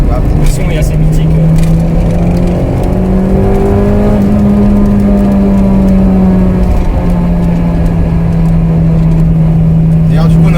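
A 1998 Honda Integra Type R with its 1.8-litre V-TEC engine drones loud and steady, its pitch climbing slightly and easing back while voices talk over it.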